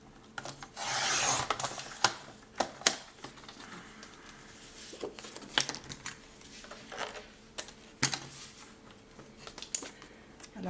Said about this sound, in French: Je vais couper les deux en même temps